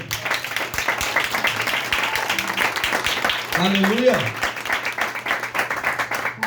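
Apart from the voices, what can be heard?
congregation applauding in church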